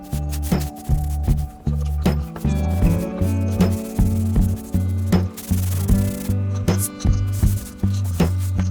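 A damp sponge is worked over drywall joint compound in steady, rhythmic rubbing strokes, close and fairly loud, repeating roughly twice per second over a low hum.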